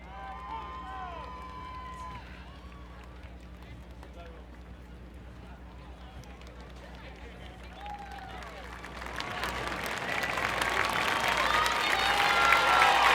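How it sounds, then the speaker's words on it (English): Audience applause at a high school commencement ceremony, with quiet crowd murmur and stray sounds at first, then a swelling wash of clapping that grows louder toward the end. "Please hold applause."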